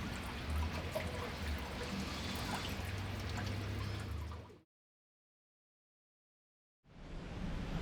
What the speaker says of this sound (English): All of the coolant out of the radiator is going to leak out through here